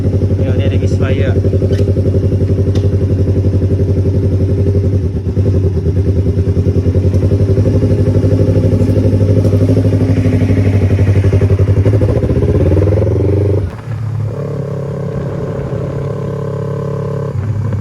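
A motorcycle engine idles loudly and up close with a rough, uneven rumble from a misfire, its note shifting briefly before settling into a lower, steadier run.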